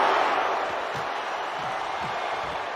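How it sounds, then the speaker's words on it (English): Capacity arena crowd in the WWE 2K25 wrestling video game, a steady broad roar of cheering that holds at an even loudness throughout, with faint thuds beneath. "And do you hear this capacity crowd?"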